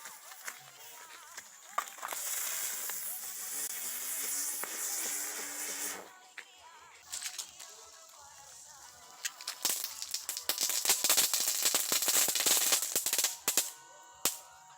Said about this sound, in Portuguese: Vou soltar agora esse traco palito aqui pra vocês verem.